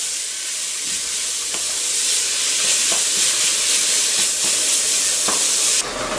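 Chopped onions sizzle steadily in a hot pan for a chili con carne, a constant frying hiss with occasional soft stirring clicks, loud and close with no talking.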